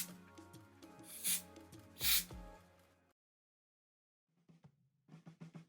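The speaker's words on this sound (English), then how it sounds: "That, and then I spray." Two short, sharp aerosol bursts hiss close by over background music, then the sound fades to silence before the music returns.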